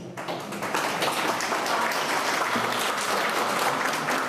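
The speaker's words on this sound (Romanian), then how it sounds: "vă invit să-l și aplaudați" An audience at an art gallery event breaks into applause that swells quickly into a dense, continuous patter of many hands, moderately loud, lasting several seconds.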